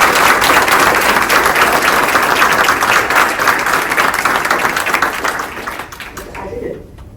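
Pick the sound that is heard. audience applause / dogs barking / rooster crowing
audience applause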